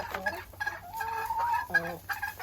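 Chickens clucking close by in a deep-litter winter coop in Minnesota, a series of short throaty clucks and murmurs coming in uneven bursts, with no other sound over them.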